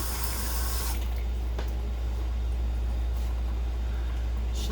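Water runs steadily from a kitchen tap to wet a spatula, with a low, constant gush that stays at an even level throughout.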